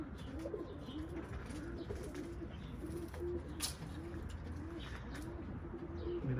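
Pigeons coo repeatedly in soft, rhythmic low calls, close by in their coop, with faint rustling and a few flutters in the background.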